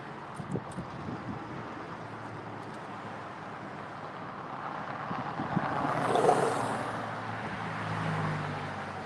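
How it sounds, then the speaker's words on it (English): Wind blows outdoors at a street preaching spot, a steady broadband rush with a gust swelling midway, under faint distant traffic rumble. "Fight against the wind"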